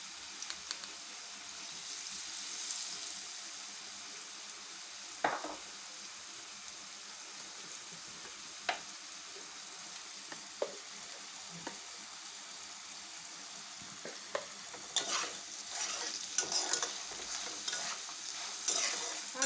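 Mango pieces fry in a pan for homemade pickle while a spoon stirs them, giving a steady soft sizzle broken by sharp scraping clicks, busier near the end, with no voices.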